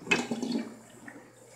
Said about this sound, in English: So I'm going to just drain the water.